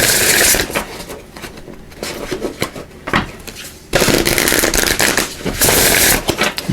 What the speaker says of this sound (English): I'm just going to give these a good shuffle.